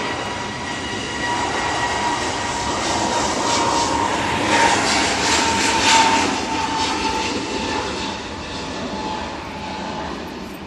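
EasyJet airliner departing Manchester Airport for Krakow on a windy day, loud jet engine roar building to a peak near the middle then easing slightly, with a thin whine over the rumble and no talk.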